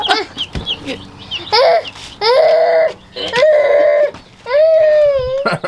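Baby chicks give loud, high, drawn-out peeps in several bursts, close by, with people talking softly between the calls.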